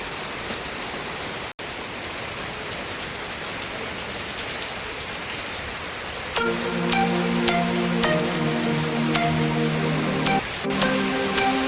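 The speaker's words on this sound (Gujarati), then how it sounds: "બહાર તો બહુ ખતરનાક વરસાદ આવે છે." Heavy rain pours down outdoors as a dense, continuous hiss of drops hitting surfaces. Partway through, sustained tones join in over the downpour.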